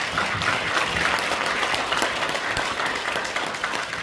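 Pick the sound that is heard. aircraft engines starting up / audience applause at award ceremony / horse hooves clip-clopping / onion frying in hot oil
audience applause at award ceremony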